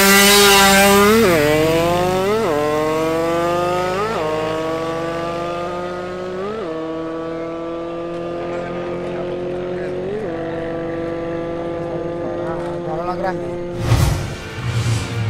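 Kawasaki Victor and Honda Africa Twin motorcycles in a drag race semifinal, engines screaming up through repeated gear shifts, about five rising pulls, loud and close at first then fading into the distance, with brief bursts of noise near the end.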